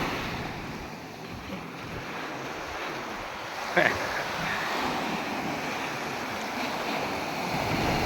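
Sea waves wash onto a sandy beach in a continuous soft roar with wind buffeting the microphone, and one brief sharp knock partway through.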